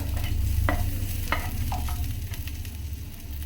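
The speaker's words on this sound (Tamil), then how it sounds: "இப்போ இதில் வெங்காயம் போட போகிறோம்." Chopped onions fry in a pan after black urad dal has been roasted, giving a steady close sizzle with a few sharp scrapes of stirring.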